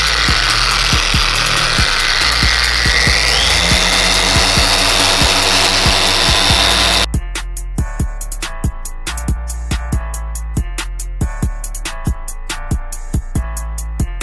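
A car paint polisher spins an HD cut compound on a microfiber pad across a Corsa's paintwork with a steady, loud mechanical whine that changes pitch partway through. Sharp, rhythmic clicks and taps come in over the rest, and no one speaks.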